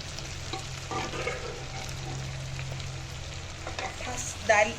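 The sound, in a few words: lentils frying with meat in pan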